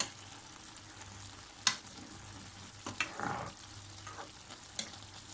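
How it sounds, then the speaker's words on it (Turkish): A pot of olive-oil okra stew simmers with a soft, steady sizzle. A few faint clinks and stirring sounds come through, close and fairly quiet, with no one talking. "Yemeğim 15 dakikadır pişiyor."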